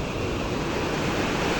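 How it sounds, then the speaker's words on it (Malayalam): Water runs through a waste-clogged channel choked with plastic, a steady broadband wash that stays loud and even throughout, with a windy, surf-like roar and no voices. "വെള്ളം ഒഴുക്കുണ്ട്, കണ്ടില്ല?"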